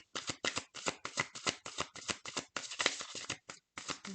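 Large oracle cards shuffled by hand in a rapid, steady run of crisp riffling bursts, close and fairly quiet, with no talk over them.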